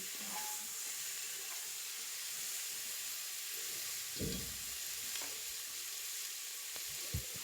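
A constant hissing sizzle fills the air as vegetables for pav bhaji fry in a pan, broken by a few dull thumps and scrapes of stirring.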